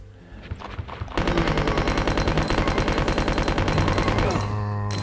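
Sustained automatic gunfire in the Dreamcast version of Resident Evil 2, a fast, even stream of loud shots that starts abruptly after a short lead-in and runs for several seconds before stopping.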